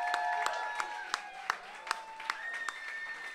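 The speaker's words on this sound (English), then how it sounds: "big round of applause for all the finalists tonight" Audience clapping for the finalists of a music final, faint and sparse, with claps landing in a steady, even rhythm over sustained tones in the background.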